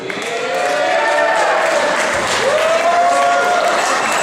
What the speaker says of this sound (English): Let's keep the applause coming for Connor Burkett, everybody.